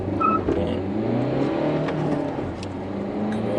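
A Nissan Juke hire car accelerates hard, its engine droning and rising steadily from inside the cabin, with no talk over it.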